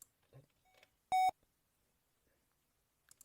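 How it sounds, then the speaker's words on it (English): A short, loud electronic beep from a computer booting an old Windows-style system rings out once, alone, in a quiet room, with faint murmurs before it and a soft click afterward. "It beeped."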